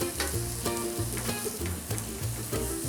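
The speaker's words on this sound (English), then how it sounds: "Throw a little bit of olive oil on there and just drop the salmon in." Salmon sears in olive oil in a hot pan, a close crackling sizzle with rhythmic scraping and clinking from a utensil and a low pulsing rumble beneath.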